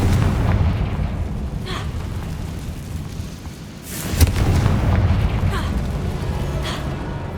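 A Confringo blasting spell goes off in Hogwarts Legacy with a sharp booming burst midway, after which the rumble lingers under a steady background roar of game sound.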